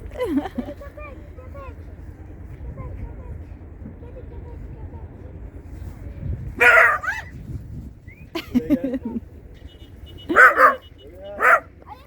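Several short dog barks and yips come in scattered bursts over a low background hum, fairly close by, at a fishing harbor.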